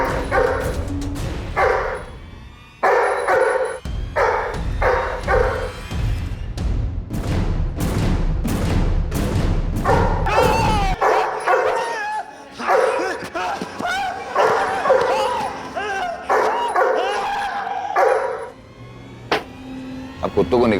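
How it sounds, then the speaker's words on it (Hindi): Dogs bark in a rapid series of loud, close, sharp barks and yips, with some whimpering, in a crime drama scene; people talk over and after the barking. "अब कुत्तों को निकाल दो वहां से।"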